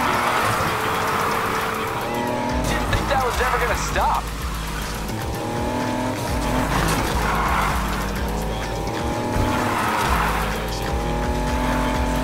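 A drifting car in the racing game NFS Heat, its engine droning loudly while tires squeal in long sweeping slides across the whole stretch, pitch rising and falling with each slide, with faint voice chatter underneath.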